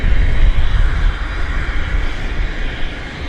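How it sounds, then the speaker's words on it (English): An Air Canada Boeing 737 MAX jet takes off from Vancouver Airport, its engines giving a loud, steady, broadband roar that holds close and unbroken without any talk. "Air Canada Max is heading to Los Angeles. It's the 554."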